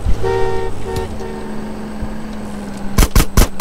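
Gunfire in GTA San Andreas: a car horn sounds in short toots at first, then a quick loud burst of four close gunshots ends the moment, all without speech.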